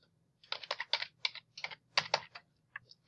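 Typing on a computer keyboard while entering numbers into a Google Sheets spreadsheet: a quick run of close, crisp key clicks in small clusters, with brief pauses and a faint hum underneath.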